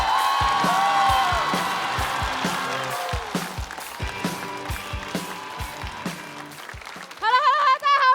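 Studio audience at a stand-up comedy show applauding and cheering to welcome the next comedian, a dense wash of clapping under loud rhythmic music, ending in a brief burst of whoops.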